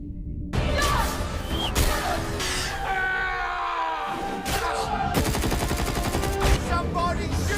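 Dense movie-battle gunfire from an action sequence in Avatar: The Way of Water, rapid bursts and volleys mixed with shouting and screams, loud and continuous throughout.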